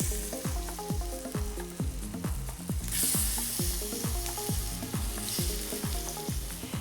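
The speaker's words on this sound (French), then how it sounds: "J'ai déjà préchauffé ma poêle. Et je vais déposer mes petites frites" Chickpea flour fries frying in a preheated pan, a steady crackling sizzle under a regular series of low knocking taps, with a brief hiss swelling midway, close and fairly loud, no speech.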